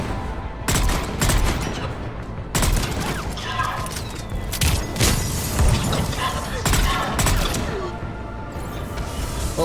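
Rapid bursts of gunfire in the Omega DLC video game, loud and close, with repeated volleys and sharp booms layered over continuous combat noise.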